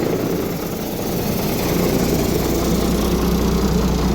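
A Kirovets K-701 tractor idles with a steady, loud diesel rumble and broad mechanical roar that holds even and unbroken throughout, heard up close without talk.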